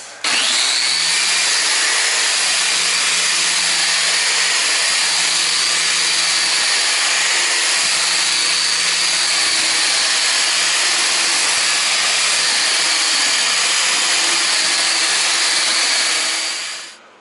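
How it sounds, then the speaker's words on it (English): Drywall mud being sanded off a raised lip in a living room renovation, a loud, continuous whirring grind that runs steadily for the whole stretch, close by and with no talking. "we got to get this lip right here sanded off"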